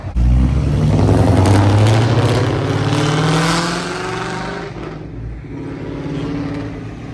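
A tuned Ford Mustang GT engine revs hard up close, climbing and falling in pitch, then settles into a lower, rumbling idle with lighter blips.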